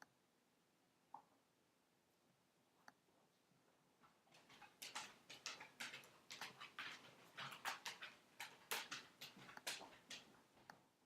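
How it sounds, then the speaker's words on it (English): Indoor room with a dog moving about, its claws and paws giving quiet early taps and then a denser run of clicks, scrapes and soft thumps close by, with no talk. "There's a dog here walking around."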